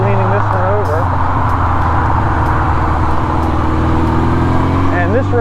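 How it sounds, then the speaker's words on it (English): A 1979 Kawasaki KZ650SR motorcycle being ridden on a road, its engine droning loud and steady with shifting pitch under a rider's continuous close talking. "My 79 KZ650SR from Kawasaki."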